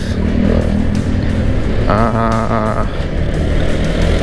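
Heavy Monday-morning traffic jam in Jakarta's Fatmawati area, with cars and motorcycles idling and revving close by, a steady loud engine drone and a brief tonal whine partway through.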